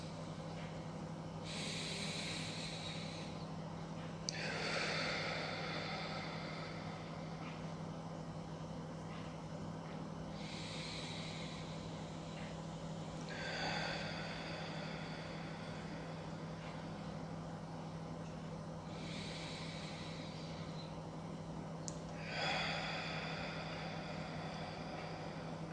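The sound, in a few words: slow deep breathing during meditation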